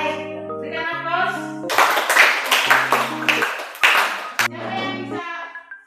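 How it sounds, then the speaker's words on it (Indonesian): A classroom group breaks into loud applause, a dense burst of many hands clapping for about three seconds, with children's and adults' voices talking and musical tones before and after. "Baik, berikan aplaus."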